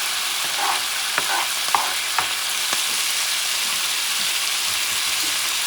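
Beef stir fry with vegetables sizzles steadily in a hot pan as it caramelizes, with a few sharp clicks of stirring or utensil taps over the constant frying hiss.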